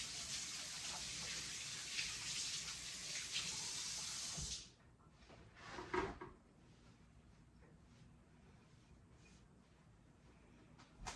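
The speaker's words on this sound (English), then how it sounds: "Let me rinse my hands." Hands rinsed under a running kitchen tap while making banana and blueberry bread, a steady close rush of water for about four seconds that stops abruptly, followed by a faint clunk and quiet room tone.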